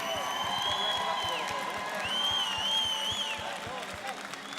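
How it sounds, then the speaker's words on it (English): Crowd applause and cheering for the Hurricane Alley Roller Derby team at a roller derby bout, a steady wash of clapping with whoops and a voice over it throughout. "Put your hands together, ladies and gentlemen, for Hurricane Alley Roller Derby"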